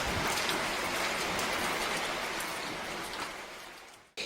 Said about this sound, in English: My second day in the village started with the rain.